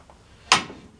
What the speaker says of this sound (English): this thing is what they call a quick down jack. So it's going to go down all in one shot